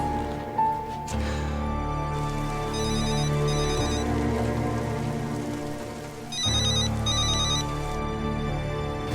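A mobile phone rings in an indoor drama scene, its electronic ringtone sounding in two distinct bursts separated by a pause, clear and fairly close over a quiet background hum.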